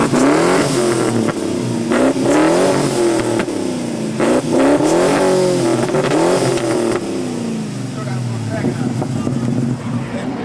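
A car engine with the packing blown out of its mufflers revs loudly and repeatedly, rising and falling in waves at a street gathering, with people talking and shouting over the raw, blatty exhaust.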